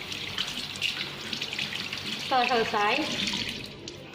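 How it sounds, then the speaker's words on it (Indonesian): Running water from a sink faucet pours steadily as hands are rinsed after soaping, a close continuous splash and hiss under a short spoken phrase. "bilas tangan dengan air mengalir kembali"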